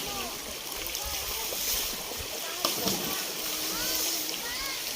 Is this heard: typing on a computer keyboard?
no